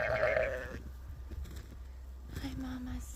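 A tiny newborn lamb burrowed in hay and its ewe bleat during winter lambing; a short bleat near the start and a thin higher cry near the end, with rustling between.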